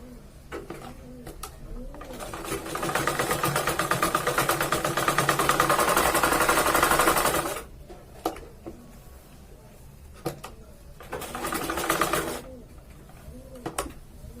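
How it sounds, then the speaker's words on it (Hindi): A sewing machine stitches a churidar salwar in two bursts, a long loud run of rapid needle chatter lasting about five seconds and then a shorter one, with pigeons cooing in the background between them. "तो अब मैं इसे फिटिंग की सिलाई पूरे इस बॉटम से लेके दूसरे पैर के बॉटम तक"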